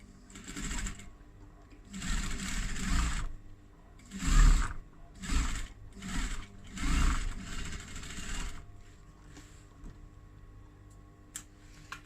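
A sewing machine top stitches a seam onto faux leather in a series of short, close bursts of rapid stitching separated by brief pauses, then falls quiet near the end.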